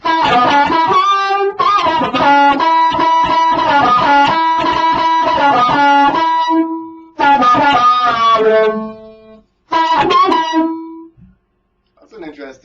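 An electric guitar runs through an auto filter effect pedal, its notes swept into a wah-like, pulsing tone across loud, chunky phrases broken by short gaps, then fading out in quick stabs.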